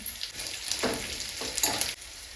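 Curry leaves and a couple of dried red chillies fry in hot oil in a pan with onion, giving a steady close sizzle and crackle with a few stirring scrapes and no talking.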